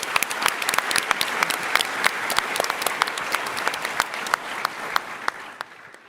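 An audience claps steadily at a startup pitch competition final, a full round of applause that stays even throughout and thins out toward the end.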